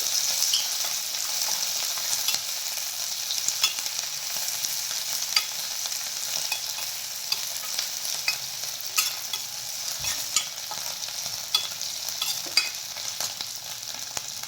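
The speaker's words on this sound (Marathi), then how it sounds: "कांदा आणि ढोबळी मिरची आपल्याला छान अशी 1-2 मिनिट परतून घ्यायची आहे" Diced onion and capsicum stir-fry in a pan, a constant hissing sizzle with sharp intermittent clicks and scrapes as a spatula turns the vegetables, close and alone without voices.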